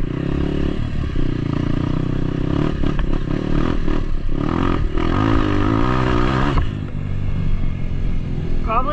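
Honda CRF150F dirt bike engine roaring steadily at close range while riding and sliding in third gear, with revving and clattering throughout, easing off near the end.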